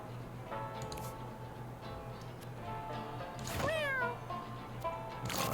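A cat meows in the video game Mewgenics: a few short mews over a low steady game hum, with one drawn-out, rising-and-falling meow in the middle. It sounds faint and distant, with no talking.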